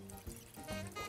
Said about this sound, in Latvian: Mēs viņu lejam katliņā.